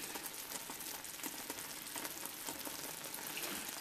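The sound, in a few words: coconut sugar mixture boiling and thickening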